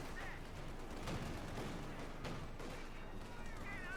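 A Greyhound armored car's gun fires in Company of Heroes 2, quick bursts of shots amid battle noise, with a commentator talking over it.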